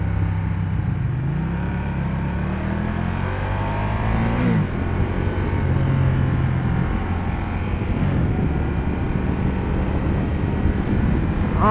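A 2015 Ducati Diavel Carbon motorcycle engine under way, its pitch climbing through the revs, dropping at gear changes and climbing again, with steady wind rush throughout and no talk.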